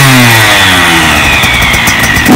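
A motocross dirt bike engine revs hard and close, its pitch sweeping upward and then settling into a loud, rough drone that lasts the whole moment.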